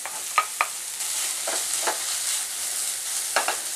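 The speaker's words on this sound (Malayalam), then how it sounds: "ചിക്കനും കൂടെ ചേർത്തിട്ട് നന്നായിട്ടൊന്ന് മിക്സ് ചെയ്തെടുക്കുക" Ground chicken being stirred into sautéed vegetables in a pan, producing a continuous sizzle with several brief scraping strokes of a spoon, close up and without speech.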